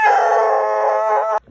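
A pet dog lets out one loud, sustained, drawn-out howl close by, lasting just over a second before cutting off abruptly.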